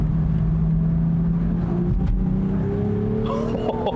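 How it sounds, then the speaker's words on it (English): The engine of a 2020 BMW Z4 M40i roadster accelerates: a loud, close, continuous growl that climbs steadily in pitch, with faint talk underneath near the end. "You just want to hear the noise this engine makes all the time."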